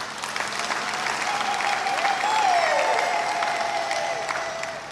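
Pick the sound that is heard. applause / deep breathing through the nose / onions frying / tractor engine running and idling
applause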